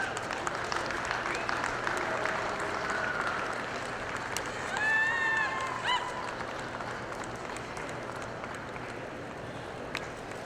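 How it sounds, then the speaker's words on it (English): An audience claps a moderate round of applause at the Royal Winter Fair Jersey dairy cattle show, a steady patter in a large hall, with a voice faintly speaking over it and a brief tonal squeal midway. "if you would receive them with a nice round of applause."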